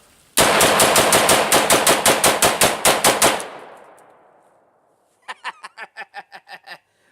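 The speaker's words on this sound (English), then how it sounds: "Got a full 30 round magazine in my AR basically. It's about 28 bullets, but yeah, that's close enough. I'm gonna do a mag dump here." Rapid burst of fully automatic-style fire from an AR rifle emptying a nearly full 30-round Magpul PMag, loud close sharp shots in a steady rhythm for about three seconds, trailing into echo, then a quieter second burst of about eight shots.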